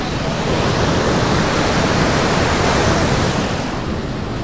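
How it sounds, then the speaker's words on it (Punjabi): Steady, loud rush of floodwater through opened flood gates at Harike headworks in Punjab, a constant broadband roar that neither rises nor falls, with no voices. "ਇਧਰ ਬਹਾ ਚੈੱਕ ਕਰੋ ਪਾਣੀ ਦਾ"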